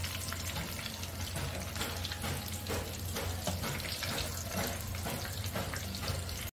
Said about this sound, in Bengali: আমি সমস্ত মাছগুলো এরকম গোল্ডেন ফ্রাই করে নেব,